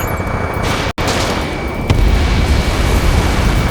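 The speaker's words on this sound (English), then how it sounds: "Gunfire and the roar of jets echoing through the streets." Gunfire with roaring jets during a city battle under martial law in the video game Ace Combat 7, a dense, loud burst of shots and rumble with a brief cut partway through, then a heavier roar.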